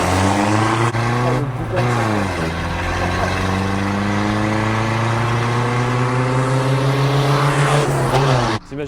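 An old Skoda pickup truck drives on the road, its engine droning loudly with shifting pitch as it pulls and changes gear, the noise constant and close throughout.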